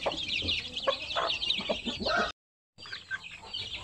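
Month-old Pure Basilan chicks, freshly weaned, cluck and peep in a busy overlapping chorus, close by, with a short silent gap partway through.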